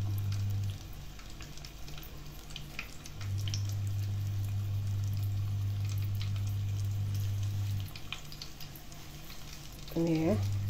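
Palembang fish-ball satay (sate pentol ikan) frying in hot oil, a steady close sizzle running throughout with a brief dip in the middle, and a short voice near the end.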